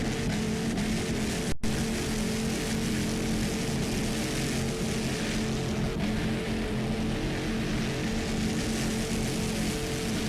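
A 38-foot Fountain racing powerboat with twin 500 hp inboard engines roars during an offshore race, its dense, continuous engine drone loud and unbroken throughout.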